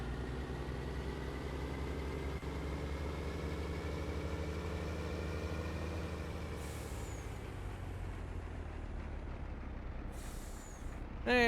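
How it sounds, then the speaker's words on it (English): Heavy truck in a farming game sits with its engine running steadily, building to air-brake hisses near the end, a short bright burst at about eleven seconds with fainter hisses earlier. "Brakes on this truck. We should really get someone to look at that."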